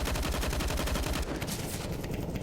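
Rapid automatic gunfire in Counter-Strike: Global Offensive during a professional match between FaZe Clan and NiP, a loud, dense burst of repeated shots that tapers slightly toward the end, with no talking.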